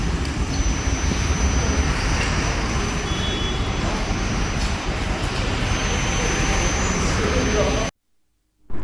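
A tuned Nardo Grey Suzuki Hayabusa with a screaming exhaust, a loud continuous high-revving roar held for several seconds before cutting off abruptly, with a short burst returning at the end.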